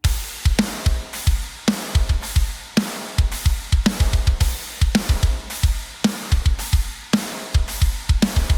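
A programmed drum kit with a bronze snare and toms pounds out a fast, driving pattern from a song, with crisp snare cracks and booming toms, loud and tightly even.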